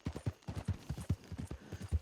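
Horse hooves clip-clop steadily in Red Dead Redemption, a quick, even rhythm of roughly a dozen close, dull thuds, heard alone without talk.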